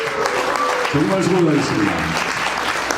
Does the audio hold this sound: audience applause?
yes